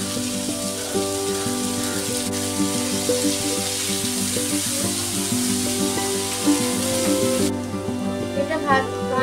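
Food fries in a hot pan with salt just added. It gives a loud, continuous crackling sizzle with small pops and stirring noises throughout, heard up close.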